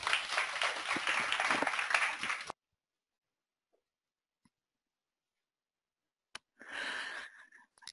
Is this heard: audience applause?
yes